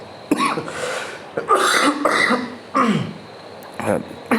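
Several harsh throat clears and coughs from a man with a cold, close and loud, coming in separate bursts.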